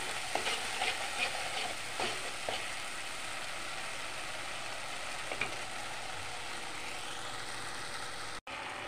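Ground spices with Kashmiri chilli sizzling in hot oil in a pan, a steady frying hiss with a few scraping stirs early on, continuous and close, no talk.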